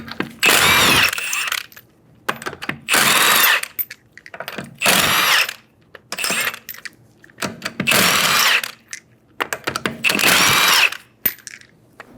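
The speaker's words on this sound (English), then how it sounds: "Using a 21mm socket, remove the 5 lug nuts." Power tool with a 21mm socket spinning off the lug nuts of a 2011-2014 Hyundai Sonata rear wheel, six loud rattling impact bursts of about a second each, separated by quiet gaps.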